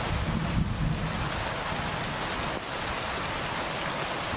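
Steady rain pours down in the medieval game Kingdom Come Deliverance 2 at night, a dense, even hiss of falling water with a faint low rumble beneath, continuous and moderately loud with no voices.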